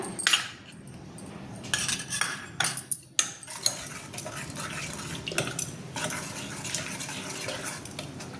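A ladle or spoon works lumps out of gram flour stirred into a taro leaf curry in a metal pot, scraping and clinking steadily over a constant background hiss, close and fairly loud, with no voices.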